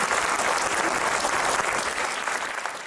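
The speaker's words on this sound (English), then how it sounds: "everybody just give Diane a round of applause." Dense, steady audience applause fills the room after a live talk, loud and continuous for about three seconds before easing slightly at the end.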